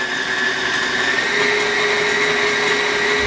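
Electric mixer beating Greek butter cookie dough in a bowl, a steady, close whirring motor hum with a constant pitch and no breaks.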